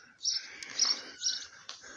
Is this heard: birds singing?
yes